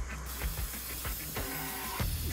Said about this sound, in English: Spray painting the wall.